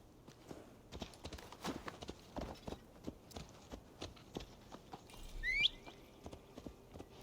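Horse hooves clip-clop in a steady walking rhythm in the Assassin's Creed video game, fairly quiet and close, with a brief rising chirp-like sound near the end.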